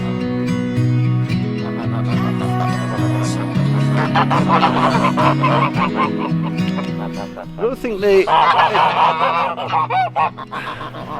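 A flock of geese on grazing pasture honk loudly and continuously, their overlapping nasal calls close by, with a brief spoken word among them.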